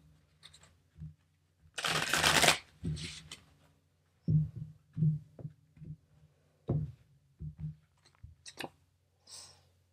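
Tarot cards are shuffled by hand in bursts of riffling and papery slaps, close and quiet, broken by soft taps and pauses.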